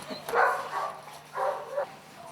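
A dog at an airport before a flight gives two short bursts of whimpering, yelping barks close by, separated by a brief pause.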